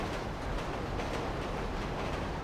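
A train rolling past in GTA Online, a steady, loud rumble of wheels and carriages filling the whole stretch without pause, with no voices over it.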